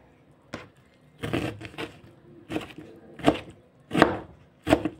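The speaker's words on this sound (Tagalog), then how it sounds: "Yan, inihiwa ko na guys yung swansai." A knife chops Taiwanese vegetables finely on a cutting board in irregular bursts of quick taps, close and crisp, with quiet pauses between.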